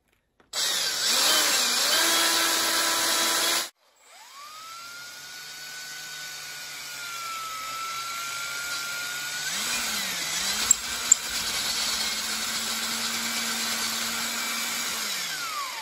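A power drill bores holes into a Yamaha dirt bike handlebar: one short high-pitched whining run, a brief stop, then a longer sustained run whose pitch dips and rises as the bit works through the metal, close up.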